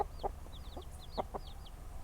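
Near a pen, a mother hen clucks in soft, low bursts while her chicks peep in high, quick chirps around her; the sounds are faint and close over a low background hum.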